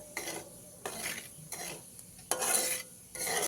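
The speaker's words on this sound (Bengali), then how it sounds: "এবার ওই একই তেলে ফোড়নে দিচ্ছি হাফ চামচ কালো জিরে" Black cumin seeds tossed into hot oil left over from frying pabda fish, giving a soft crackle with scraping stirring strokes in the pan, quiet and close with short gaps between strokes.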